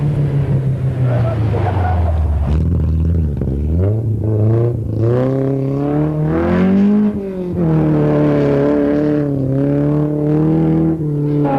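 Rally cars racing in Zimbabwe in 1986, a Ford 240 RS and a Datsun 160J, engines loud and near, revving and shifting through rising and falling pitch while a commentator talks over them.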